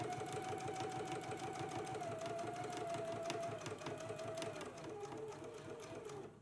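A sewing machine stitches a quarter-inch seam along the outside edge of a jacket piece, running as a steady, fast motor whir with rapid needle ticking, fairly quiet and uninterrupted, slowing slightly toward the end.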